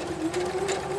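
A small home sewing machine with a narrow throat runs steadily while quilting, a close, continuous motor whir with a fast, even stitching hum and no talk.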